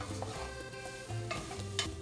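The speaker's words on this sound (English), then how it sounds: "You hear that nice sizzle, that means you're doing something right" Bacon sizzles in a soup pot with a continuous crackling fry, while low stirring and clinking of a utensil against the pot come through close by, and no one speaks.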